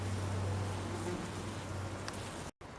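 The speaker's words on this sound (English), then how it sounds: "This was completely covered in bees a moment ago." Honey bees buzz faintly around a hive frame during mite treatment, a thin steady drone with a brief low hum early on, ending in a sudden cut.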